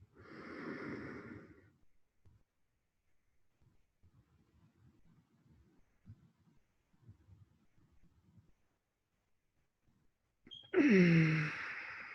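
During Tummo meditation, a deep, forceful breath rushes loudly through the nose and mouth, followed by a long stretch of faint, low murmuring, then another strong, close breath with a rasping edge.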